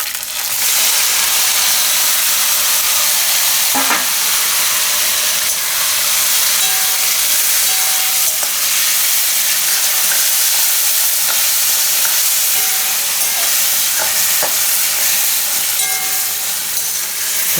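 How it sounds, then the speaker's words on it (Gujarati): Green chilies, curry leaves, a pinch of asafoetida and chopped tomatoes sizzle in hot oil in a pan for a Gujarati peas and tomato curry: a loud, steady frying hiss throughout, with a few brief clinks and scrapes of stirring. "હવે એમાં આપણે નાખી દઉં આ મરચાં અને લીમડો, થોડીક હિંગ અને ટમેટાં."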